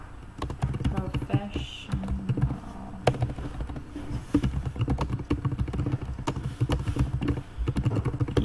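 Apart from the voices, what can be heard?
computer keyboard typing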